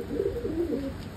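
Several pigeons, including a blue one, coo in low rolling warbles close by, a brief continuous burst with a faint steady electrical whine behind it.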